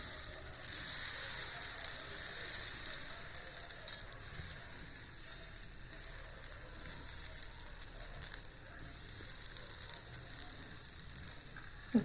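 Horse gram dosa batter spreads on a hot pan, giving a soft, continuous hiss that swells slightly near the start and then holds even and fairly faint, with a small knock at the very end.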